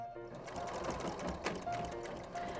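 A sewing machine stitches an apron hem in a quick, rhythmic run of needle strokes, moderately quiet and close, with brief pauses and small clicks between bursts.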